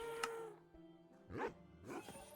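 A pet dog in a video game, named Diana, gives a couple of short yipping barks in a quiet in-game room, each bark brief and sharp with pauses between them.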